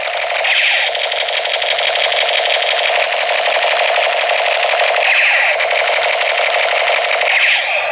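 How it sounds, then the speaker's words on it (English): A toy AK-47 assault rifle fires in a loud, steady, rapid electronic rattle, with a brief swell in the sound about every few seconds and no talking. "Let's try! Oh! AK-47!"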